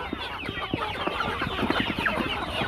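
Desi chickens cluck in a noisy flock commotion before being fed rice, a dense, continuous jumble of close clucks and squawks.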